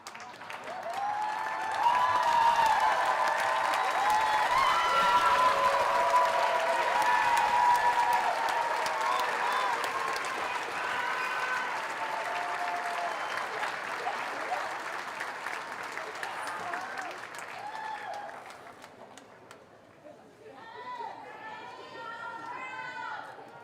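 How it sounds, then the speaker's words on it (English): Sustained applause from a college commencement crowd, loud and steady for about twenty seconds with cheers and chatter mixed in, thinning toward the end as voices talk over the dying claps. "give them a round of applause"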